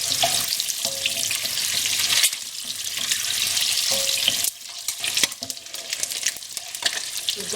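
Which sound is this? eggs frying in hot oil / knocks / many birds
eggs frying in hot oil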